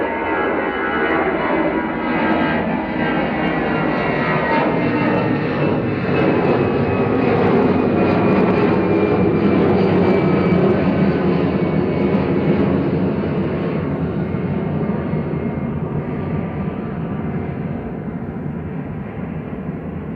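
Airliner departing Manchester Airport, its engines a loud sustained roar with a slowly rising whine, steady throughout and heard alone without any voices.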